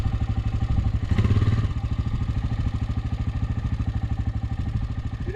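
A motorcycle engine runs close by during a rally in Morocco, a steady rapid thumping pulse throughout with a brief louder swell as it passes.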